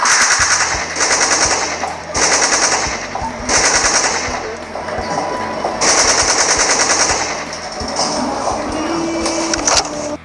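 Rapid machine gun fire in repeated bursts, loud and close, with bright metallic clinks of spent bullet shell casings falling and scattering between and under the shots.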